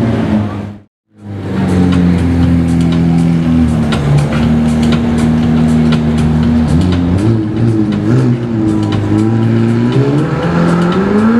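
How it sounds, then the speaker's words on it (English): A McLaren 765 LT on a premium exhaust revs hard close by, its loud engine note climbing and falling in steady pulls after a brief cut at the start, with no talk over it. "Look at that exhaust."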